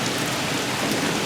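Steady, dense rain pours down throughout a violent thunderstorm, a continuous loud hiss with no thunder clearly standing out.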